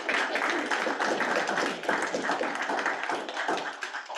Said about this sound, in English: So if everyone can please give a round of applause to our speaker.